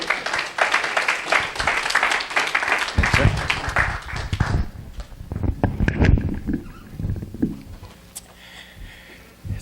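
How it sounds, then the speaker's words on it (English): A storytelling event audience gives a round of applause for a storyteller, with dense clapping that is loud at first, then thins into scattered claps and bits of crowd noise before fading. "Let's give Steve Vigil a round of applause."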